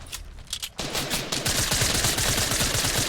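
Rapid automatic gunfire from an opponent's gun in Fortnite: a few sparse shots, then a loud, dense, continuous burst of fire that carries through to the end.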